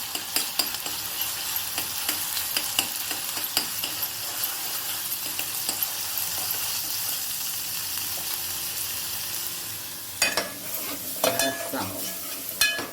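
Masala for Kolhapuri mutton sukka sizzles softly in a generous amount of hot oil, with a spoon scraping and stirring the pan, the clatter growing busier and louder near the end.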